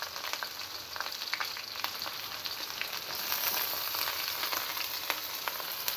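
Garlic, ginger and whole dried red chili frying in hot mustard oil, a dense continuous close sizzle with small crackles, growing slightly louder partway through.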